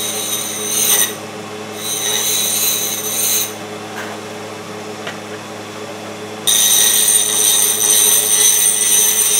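Grinding a cut-to-length pushrod for a 2110 engine: a power grinder whines steadily in several bursts with brief lulls between them, close and loud, with no voices.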